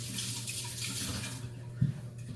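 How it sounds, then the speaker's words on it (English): Tap water runs steadily into a sink as hands are washed in a home kitchen during stovetop cooking of country style ribs, a broad even rush with a low hum beneath and one brief clunk near the end. "Let me wash my hands real quick."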